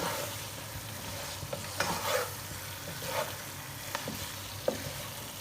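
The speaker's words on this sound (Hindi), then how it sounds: "और इसको करेंगे हम कबाबों को 1 से 2 बार इसके अंदर मिक्स।" Chicken kebabs being stirred into masala in a handi give off a soft, steady sizzle, with several distinct scraping and clinking stirs of a spoon against the pot.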